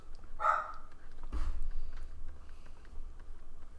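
A pet dog barks at someone arriving at the door, two sharp barks close by indoors, followed by a low, steady background hum.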